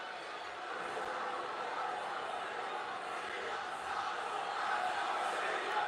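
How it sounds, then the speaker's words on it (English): A wrestling arena crowd at a WWE event chants in split fashion for and against John Cena, a dense, distant-sounding roar of many voices that swells and pulses steadily throughout. "Let's go Cena. Cena sucks chance. Crowd is, like always, 50-50"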